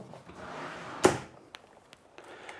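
A drawer in a camera storage cabinet bangs shut with one sharp knock, followed by a few faint clicks and small rattles of the contents.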